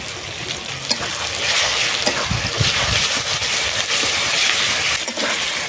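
Onions fry with garlic paste added for a chicken curry, giving a dense continuous sizzle with occasional stirring knocks, fairly loud and close with no talking.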